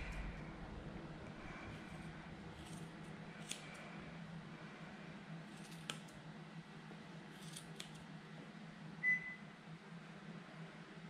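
Scissors trimming an angora rabbit's fur, with faint, sparse snips at irregular intervals over a quiet room hum.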